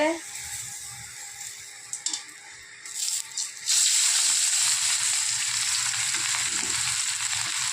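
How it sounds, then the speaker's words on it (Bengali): Fish rubbed with salt, turmeric and mustard oil drops into hot oil, bursting into a loud, steady sizzle that fills the rest of the clip after quieter kitchen clatter. "এখন এটা তেলের মধ্যে দিয়ে দিব তেলটাও গরম হয়ে গেছে"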